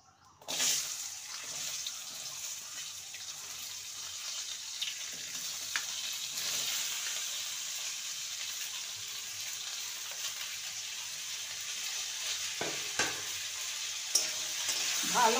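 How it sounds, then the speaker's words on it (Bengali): Potatoes and ivy gourd (kundri) frying in a pan, with a continuous soft hiss of oil and occasional clicks of a spoon as the vegetables are stirred, starting abruptly and running steadily throughout. "ভালো করে নেড়ে নিয়ে পাওয়ার কমিয়ে আলু আর কুঁদরিকে ভালো করে ভেজে নিতে হবে।"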